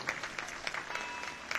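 Brief scattered clapping from a crowd at a 2008 Wauseon homecoming parade, faint and distant, with a handful of sharper individual claps standing out.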